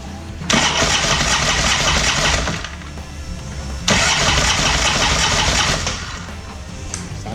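A rebuilt starter on an '08 Ultra cranks the engine with the spark plug wire pulled, giving two long whirring bursts of about two seconds each, loud and close, separated by a brief pause.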